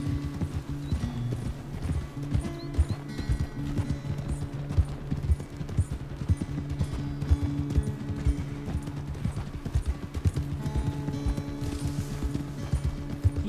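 Horse hooves clip-clop steadily on the ground while riding in Red Dead Redemption 2, a continuous close rhythm of hoofbeats over a low game music bed, with an occasional faint whinny.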